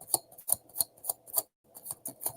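Tarot cards being shuffled by hand, a run of quick crisp riffling bursts in a steady rhythm, close and fairly loud, with one brief pause partway through and no talking.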